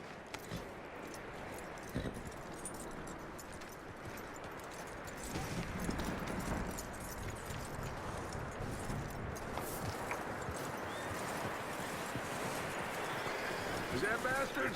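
Horse hooves clip-clopping at a walk in the Red Dead Redemption 2 video game, soft rhythmic steps under busy ambient game sound, with voices talking over them.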